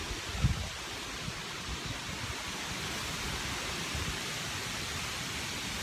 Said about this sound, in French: J'espère que vous m'entendez pareil avec le vent.